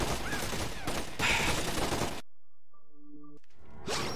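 Gunfire in Splinter Cell: Conviction, a burst of rapid shots and clattering for about two seconds, loud and close, then a sudden drop to near silence broken by a few faint tones.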